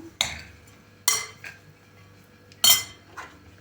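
Utensils clink and scrape against a bowl while stirring salad, in three separate bursts, close by, with quiet pauses between strokes.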